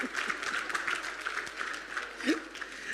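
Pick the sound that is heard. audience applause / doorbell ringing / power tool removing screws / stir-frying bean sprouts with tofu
audience applause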